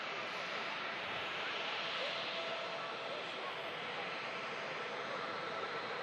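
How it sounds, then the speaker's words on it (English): Jet airliners roaring at Manchester Airport, a Ryanair jet climbing out while another arrives from Enfida, a broad steady engine rumble and hiss heard from a distance, constant for several seconds. "Ryanair climbs out to Brussels as this 2873 arrives in at Manchester from Enfida"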